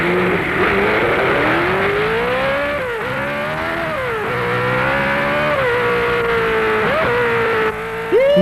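A cartoon car speeds around a test track at 150 km/h, its engine whine rising and falling in steady revving sweeps, loud and continuous with no talk.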